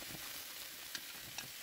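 Food stir-frying in a pan while Mekong Delta style bánh xèo is prepared, a steady soft sizzle with a couple of brief clinks of utensils, fairly faint and with no talking.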